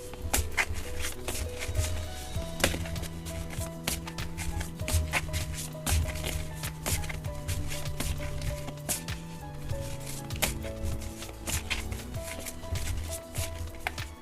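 Tarot and oracle card decks shuffled by hand, close up, with a dense run of quick taps and riffles that continues throughout, over soft music.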